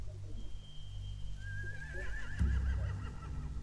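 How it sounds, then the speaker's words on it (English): Horses in The Walking Dead: The Final Season video game give a clear whinny that rises and wavers, with a faint clatter partway through and a low rumble of game ambience underneath. "They have horses."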